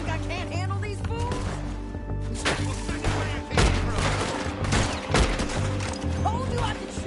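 Gunfire in the video game Red Dead Redemption 2, with repeated loud gunshots in a rapid, irregular fusillade over a dense background of game sound and music, and voices speaking between the shots.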